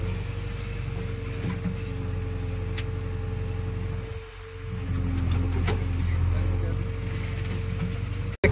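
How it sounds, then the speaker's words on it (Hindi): A JCB backhoe's hydraulic boom swings and stops with the engine held around 1500 rpm, a steady machine drone with a brief dip midway before the hum rises again. "जैसे ही स्विंग करो ये ओपन कर दिया रुक गया, बूम ये क्लोज कर दिया रुक गया"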